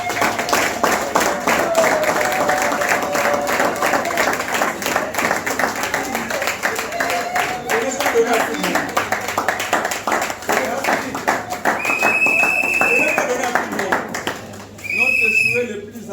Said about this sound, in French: nous allons encourager notre frère par des applaudissements